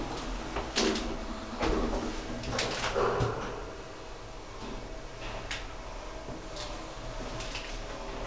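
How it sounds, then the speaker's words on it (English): Lift doors slide open in a Bracknell town centre building, with a few clunks and a mechanical rumble near the start, then a steady hum continuing on its own with no talk. "Doors opening."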